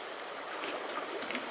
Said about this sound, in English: Real fast little bit of water here